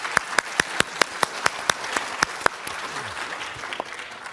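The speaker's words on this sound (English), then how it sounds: "So let's give this great panel an extra applause." A conference audience applauds a panel at a summer economic forum session in Tianjin, giving crisp individual claps that stand out at first and then merge into a denser, softer wash of clapping over a few seconds.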